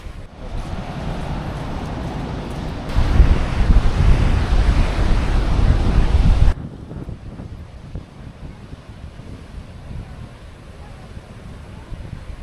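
Ocean waves surge onto the beach at Tamarama in Sydney, a steady wash of surf mixed with wind buffeting the microphone, swelling loudest midway before easing back to a softer, distant roar; no talk.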